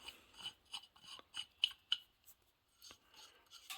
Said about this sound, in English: Now take that, screw it into the shaft.